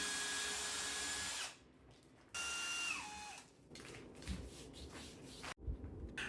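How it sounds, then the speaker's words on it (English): A power drill whines close up as it bores hardware holes in a red oak board, running in a couple of bursts with pitch dropping under load, followed by rubbing and handling noises. "I came back and drilled the hardware holes to the reveal board."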